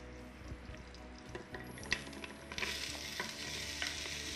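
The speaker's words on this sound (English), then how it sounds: "stir fry to brown your garlic" Garlic stir-frying in an electric cooker, a steady close sizzle with scraping stirs from a wooden spoon or plastic spatula, the frying growing brighter and louder partway through.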